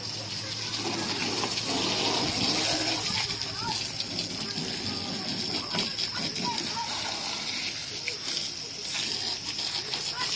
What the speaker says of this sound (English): So you've got to make sure you water it down well, wash it down well, and get it off quickly